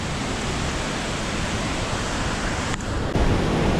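The Cachoeira da Formosa waterfall at Rio dos Cedros, Santa Catarina, rushes with a loud, steady broadband roar close by. No one speaks, and a brief dip and thump come near the end.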